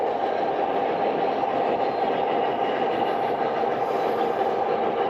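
The Mercury model train rolls into a passenger siding on a layout, with a steady close rumble of running wheels and motor and no break over its whole length.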